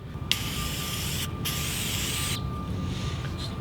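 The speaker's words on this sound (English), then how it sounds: "K&N red oil. We can start spraying it." K&N red filter oil hisses from an aerosol can onto the air intake filter of a Volkswagen GTI MK7 in two close, steady bursts.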